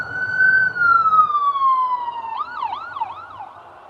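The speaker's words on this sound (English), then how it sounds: "it's not the cops, it's the ambulance" An ambulance siren wails close by, a long falling tone that shifts into a rapid rising-and-falling yelp as it passes.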